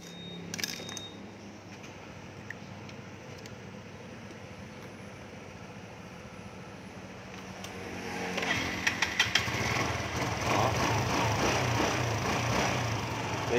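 A Honda SH125i scooter with high fuel consumption is started in a repair workshop. The engine idles faintly at first, then runs louder and steadier in the second half.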